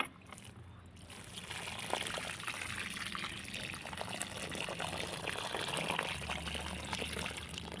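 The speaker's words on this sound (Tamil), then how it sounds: "தண்ணி ஊற்றலாமா?" Water pours and trickles steadily for several seconds, moderately quiet, with a soft splashing texture throughout.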